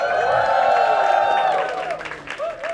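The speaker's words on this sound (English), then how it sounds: "So, very warm round of applause." A studio audience claps and cheers to welcome a guest onto the stage of a comedy dating show, a loud wash of applause that fades toward the end as a voice cuts in.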